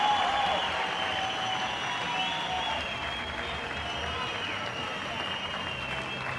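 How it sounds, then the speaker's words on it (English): Crowd applause fills the arena at the 2013 FINA World Championships swimming and diving events in Barcelona, a steady, distant wash of clapping and cheering that runs the whole time. "Great to see the applause."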